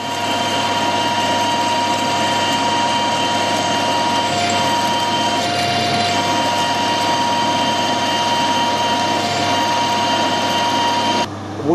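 A steady, loud mechanical whine of a Banggood drill boring into a steel bar, continuous and unchanging, stopping abruptly at the end.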